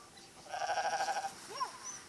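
Sheep in a pen bleating as they are pushed around, one wavering bleat followed by a shorter call, fairly faint against a quiet background.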